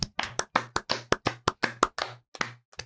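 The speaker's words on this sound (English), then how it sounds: "Can we hit the clap, please?" A crisp clapping sound effect plays as about a dozen sharp, evenly spaced hand claps, loud and close, with nothing else under them.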